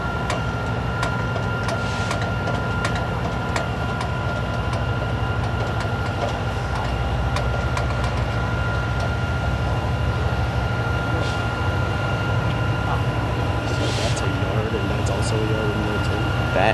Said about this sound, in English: That is an intermodal, mainline intermodal, I believe, is Q122